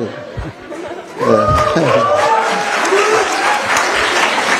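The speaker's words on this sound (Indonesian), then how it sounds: "Ini kok pada tepuk tangan?" Audience clapping swells in after a lone voice speaks, a dense wash of hands mixed with scattered chatter and light laughter that carries on to the end.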